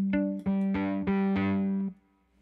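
Violin played through a Bunnel heavy metal distortion pedal on a light setting, a short phrase of several bowed notes, buzzy and harmonically rich, ending in a decaying tail.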